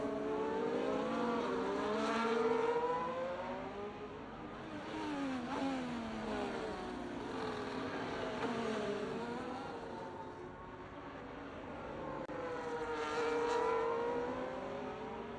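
Ferrari Formula 1 cars in a racing video game at the Singapore circuit, high-pitched engines rising and falling through gear changes, several revving passes heard over the course of the clip.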